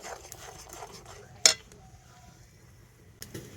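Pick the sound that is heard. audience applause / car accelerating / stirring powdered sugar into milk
stirring powdered sugar into milk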